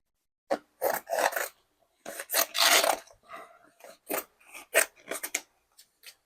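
Scissors trimming canvas fabric, repeated close snipping and cutting strokes in irregular bursts against a quiet background.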